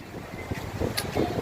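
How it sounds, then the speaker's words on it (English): Blustery ocean wind on the open coast near the Bahia Lighthouse in Salvador, buffeting close to the microphone in a steady rumbling rush with a few louder gusts, no talking. "We are on the open ocean side of the city now, and now it's windy."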